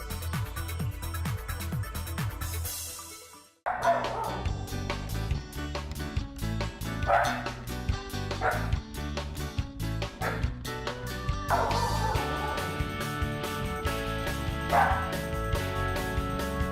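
Puppies bark and yip repeatedly over a busy musical background, the small dog sounds recurring throughout at moderate loudness.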